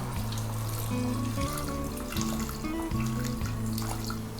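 Water pours steadily into a pan of mutton, a continuous splashing stream under background music.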